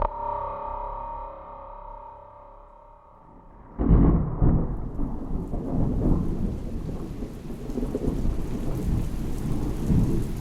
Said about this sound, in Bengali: সেদিনের দুপুরের পর থেকে বজ্রপাত সহ তুমুল বৃষ্টি নামল।